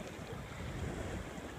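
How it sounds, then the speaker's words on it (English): Wind blowing by a river, a steady broad roar buffeting the microphone, constant and loud without any voices. "The wind's blowing pretty good right now."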